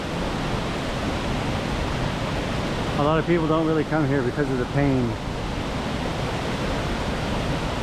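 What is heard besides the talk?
waterfall at Oneonta Gorge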